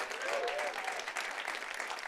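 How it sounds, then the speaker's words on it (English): A conference audience applauds a corporate sponsor, with continuous, evenly spread clapping from a large crowd heard from a distance for just over two seconds. "Applause for them."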